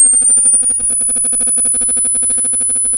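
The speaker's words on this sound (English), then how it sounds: "I have a tone generator on my phone here, and so I can generate different frequencies." A phone tone generator emits a thin, steady, very high-pitched sine tone, held continuously and fairly loud, with a faint repeating low murmur beneath it.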